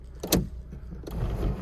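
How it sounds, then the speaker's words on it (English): Electric sunroof of a 2011 Honda Civic EX tilting up, a short motor whir with a soft click or thunk near the start and a second movement sound near the end, close inside the cabin. "this vehicle does have a sunroof as well. It flips up"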